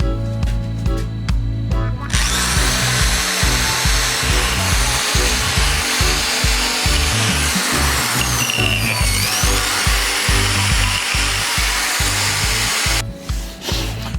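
A power tool cleans up mating surfaces on a car part before new polyurethane parts go in, a loud continuous grinding whir with rhythmic low pulses that runs nearly the whole time, then cuts out near the end.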